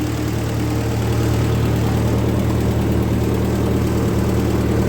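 A Ford 8N tractor engine idles with a steady, low chug, even and continuous, fairly close, with a mellow, even drone and no other sounds.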